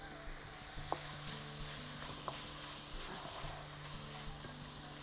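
Tomatoes heating in a pan, a soft steady sizzle and hiss with occasional stirring clicks, faint and close, with a low kitchen hum beneath.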